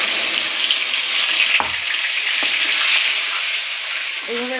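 Gravy poured into a hot pan sizzles loudly and steadily, a dense broadband hiss that holds through the whole stretch with a couple of brief clinks and a scrape near the end.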